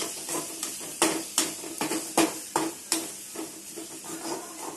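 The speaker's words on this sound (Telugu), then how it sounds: "మనం తురుము పెట్టుకున్న మామిడికాయ, ఇవన్నీ బాగా ఒక 2 మినిట్స్ వేయించుకుంటే చాలు." Grated raw mango frying in a pan for pulihora, with steady sizzling broken by repeated sharp scrapes of a spoon stirring roughly every half second, close and moderately loud, no talking.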